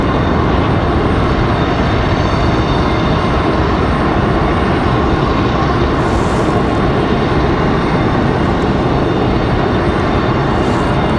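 Airbus A220 jet arriving from Tampa at Raleigh Durham International, descending through cloud with a loud, continuous, broad engine roar that stays level throughout, with no voices.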